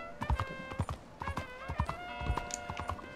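Horse hooves clip-clop in quick, uneven clusters of close, distinct steps as a mount is ridden through a town in a video game, with soft background music underneath and no talk over it.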